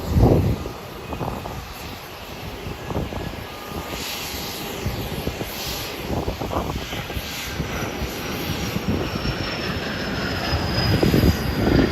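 Airliner taxiing at Hollywood Burbank Airport after crossing runway 26, a steady engine hum and whine with a thin descending tone, uneven rumbling bursts, growing slightly louder toward the end.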